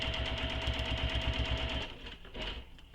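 Sewing machine running a steady rapid stitch, topstitching a second row along the bottom edge of a handmade backpack, close and continuous before slowing and pausing near the end.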